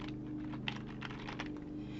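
Light typing on a computer keyboard during a Google Slides session, a quick run of soft key clicks over a steady low hum, brief and close with no talk.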